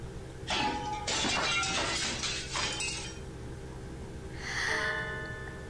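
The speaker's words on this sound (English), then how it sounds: "Some glass object splinters with a monumental crash behind us as we make for the exit." Glass shattering with a loud crash in a video game, a burst of breaking and tinkling shards that rings for a couple of seconds, then a second smaller clink of glass after a short pause.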